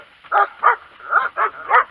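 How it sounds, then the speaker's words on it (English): A dog barks five times in a steady rhythm, close and fairly loud, outdoors in a desert spot among cactuses along Avra Valley Road. "My dog's going crazy."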